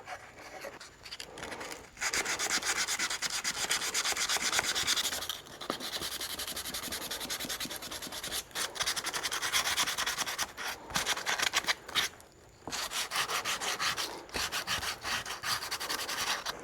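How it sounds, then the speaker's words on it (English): Poplar wood is sanded by hand with sandpaper, a steady close scratchy rubbing that runs in long back-and-forth strokes with brief pauses, with no voices. "Once you get your sandpaper down in there and you just kind of run over every bit of that a little bit"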